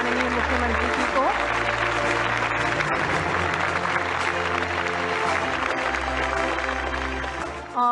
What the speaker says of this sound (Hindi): जोरदार तालियों के साथ हम अपना आभार प्रस्तुत करें माननीय मुख्यमंत्री जी को